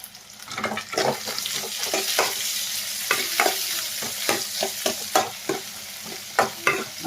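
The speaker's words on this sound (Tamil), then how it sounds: "போட்டு வதக்கிடலாம்" Lemon peel sautéing in a pan for chutney, with a steady sizzle and frequent scraping stirs from a spoon, close and moderately loud, no talking.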